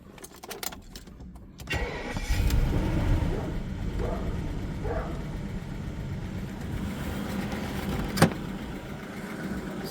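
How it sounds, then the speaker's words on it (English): A BMW E38 750i V12 with a valve-like ticking fault cranks briefly, catches near two seconds and settles into a steady, close idle, with a sharp click late on. "I'll start the car."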